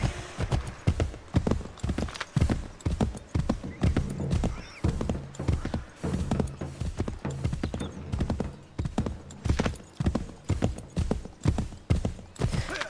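Steady clip-clop of a horse's hooves trotting through Assassin's Creed III, close and evenly paced across the whole stretch, with faint neighing mixed in and no talking on top.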